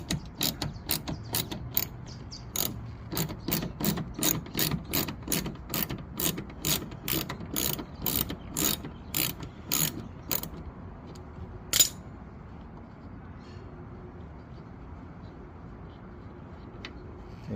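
Ratchet loosening a 10mm screw on a 2010–2015 Toyota Prius tail light, a quick run of sharp metallic clicks in steady rhythm that stops, followed by near silence and a single click.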